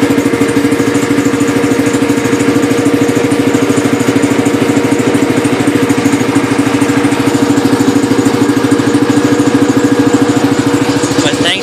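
A Cub Cadet 129 lawn tractor engine idling after a cold start, a steady loud low thrum with even pulsing throughout, close by and with no voices over it.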